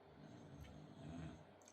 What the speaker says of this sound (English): If you hear snoring in the background, that would be my dog.